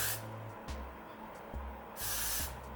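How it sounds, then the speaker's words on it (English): A hair holding spray hisses in two short bursts close by, a quick spritz then a longer one, in a quiet room. "I'm gonna put some holding spray"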